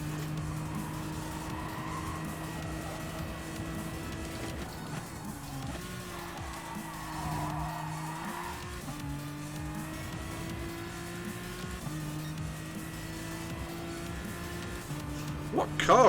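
A Citroen race car in GT Sport lobby racing, its engine revving loud and steady through gear shifts, with some tire squeal and a rising burst near the end.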